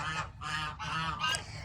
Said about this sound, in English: and currently the geese behind me.